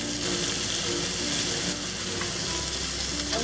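Shrimp frying in a hot pan for Sichuan-style dry-braised shrimp, a dense, even hiss of sizzling oil that holds steady and close throughout with faint crackle, no speech.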